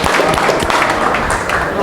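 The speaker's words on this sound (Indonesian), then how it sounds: "Tepuk tangan." Audience applause at a pre-fight weigh-in event, a dense wash of clapping that fills the whole moment loudly, with voices mixed into the crowd noise.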